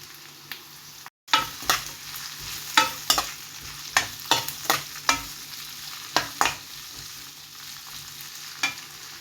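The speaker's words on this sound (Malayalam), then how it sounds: "അപ്പോൾ നമുക്ക് മാങ്ങ ഇതിലേക്ക് ഇട്ടിട്ടൊന്ന് വാട്ടിയെടുക്കാം" Mango pieces stirred and sautéing in a pan for a mixed pickle, with a low steady sizzle under repeated sharp scrapes and clacks of a spoon against the pan, fairly close and without talk.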